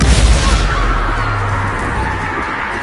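A Confringo blasting spell in Hogwarts Legacy bursts with a loud booming blast up close, followed by a rumbling decay that fades over the next couple of seconds.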